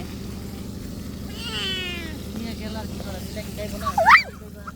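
A cat meows close by, a wavering call near the middle followed by a sharper, louder rising meow toward the end, over a quiet indoor background with faint low hum.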